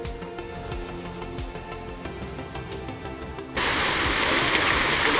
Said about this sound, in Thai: เสียงน้ำตกดังมาก